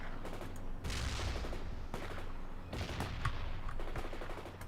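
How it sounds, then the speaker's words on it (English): Grenade launchers firing in the World in Conflict strategy game, with repeated bursts of explosive fire and rumbling impacts coming in uneven waves, fairly distant and faint, with no voices. "Fire some grenades."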